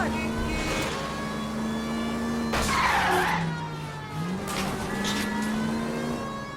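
In the video game L.A. Noire, a car engine drones steadily during a chase, then tires screech in a loud skid midway and the engine pitch dips and climbs again.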